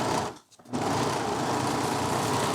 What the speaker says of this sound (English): we're going to finish this raw edge with the serger